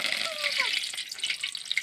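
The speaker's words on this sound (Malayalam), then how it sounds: "നമുക്ക് കുറച്ച് കറിവേപ്പിലയും കൂടി ഒന്ന് വറുത്തെടുക്കാം" Curry leaves frying in hot oil while snack mixture dough cooks, a steady bright sizzle and crackle close by with a few sharp pops throughout.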